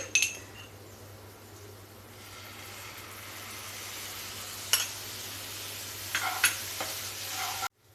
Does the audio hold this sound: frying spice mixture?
yes